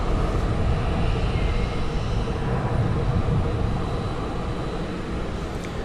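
Airplane taking off at Gimpo International Airport in Seoul, a steady broad engine roar heard from an observation deck, continuous and moderately loud at a distance, gradually easing toward the end, with no speech.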